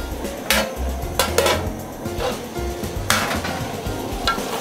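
Matumbo (tripe) seasoned with Royco simmers and sizzles in a pot, with a steady low bubbling bed and a few sharp metallic utensil scrapes and clinks on the pot.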